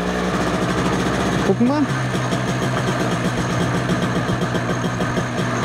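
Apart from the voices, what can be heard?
MZ ETZ motorcycle engine running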